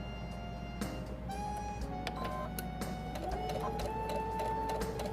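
A sewing machine stitches a hanging oven door towel with a steady, close mechanical whir and rapid needle chatter that rises slightly in pitch as it speeds up, without any talking.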